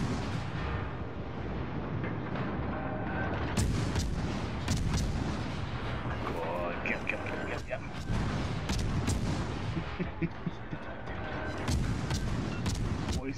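Heavy naval gunfire in World of Warships: Legends, repeated deep booms and salvos rolling over a constant battle rumble, with players talking over the action throughout.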